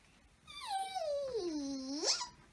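A person's voice imitates a dog with a long whining whimper that slides downward and then rises into a high yelp, close and fairly quiet, with no other sound.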